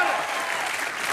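A studio audience at a Hindi comedy show in Dubai claps loudly and steadily, a dense wash of hand claps sustained through the brief moment with no voices breaking through.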